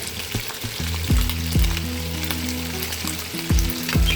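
Chicken feet sizzle and crackle in hot oil in a cooking pan, a continuous close frying hiss broken by several sharp spatters and pops.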